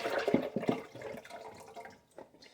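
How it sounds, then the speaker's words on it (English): Liquid poured over chicken into a slow cooker in a home kitchen, a steady splashing pour that tapers off into a few faint drips near the end. "And then I'm just going to pour this in here."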